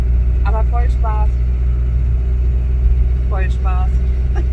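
A camper van engine drones steadily throughout while driving, loud and continuous, with brief voices talking over it twice.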